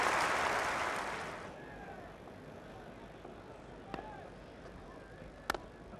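Home crowd applause for England cricketer Mike Watkinson after his first Test innings at Old Trafford, a broad wash of clapping that fades over the first second and a half into quiet ground ambience with a couple of sharp knocks.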